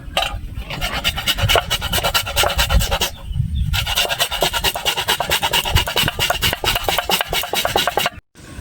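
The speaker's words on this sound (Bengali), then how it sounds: "আমি ছোলা মেশিন নিয়েছি, আমি ছুলে নেবো আমটা।" Mango quarters being peeled for pickle with a hand peeler, a dense, rasping scrape repeating rapidly and loudly up close, with a brief pause midway and a sudden stop at the end.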